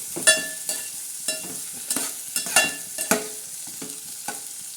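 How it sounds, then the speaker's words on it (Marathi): Sprouted legumes for a spicy usal fry in hot oil, giving a steady close sizzle broken by several sharp scraping stirs of a spoon against the pan at a loose, irregular rhythm, with no voices. "आता तेलामध्ये मस्त असे छान फ्राय होत आहे"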